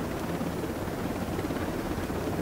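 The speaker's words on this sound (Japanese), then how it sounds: "近くまでねヘリに乗っていきましょう。" A helicopter in Ghost Recon Breakpoint drones with a steady, loud rotor thrum that fills the soundscape and holds constant throughout, with no voices over it.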